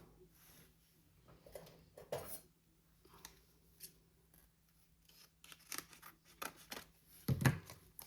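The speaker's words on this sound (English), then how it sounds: "This part I'll cut off." Scissors snip through card paper during Valentine cardmaking, with quiet, scattered cuts that build into a louder cluster of close snips near the end, without talk.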